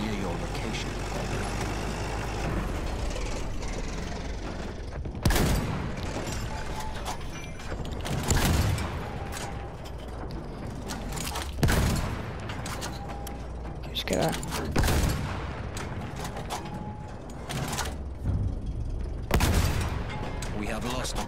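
Artillery shelling in the Battlefield 1 video game, with repeated heavy booming blasts every few seconds over a rumbling vehicle drone, and a voice talking throughout.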